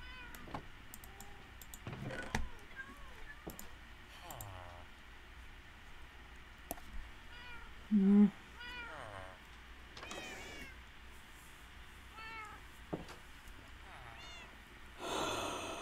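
Cats meow repeatedly in the Minecraft video game, several short drawn-out calls scattered across the scene amid light clicking and typing, with a person talking at times.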